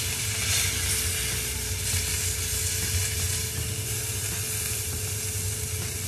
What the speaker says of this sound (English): So now I'm just gonna take that, sear that side.